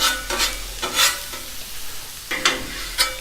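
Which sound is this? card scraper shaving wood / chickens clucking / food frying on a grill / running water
food frying on a grill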